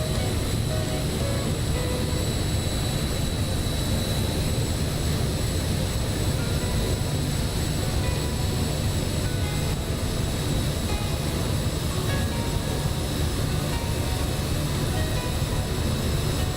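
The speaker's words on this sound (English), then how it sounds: "flying the iniBuilds NAMC YS-11 propliner in the Abel Jets Retro / Gulung Sky Connect livery" Steady, loud propeller-engine drone of an iniBuilds NAMC YS-11 turboprop propliner in Microsoft Flight Simulator, a continuous low rumble with a hissing top holding evenly throughout, no voices.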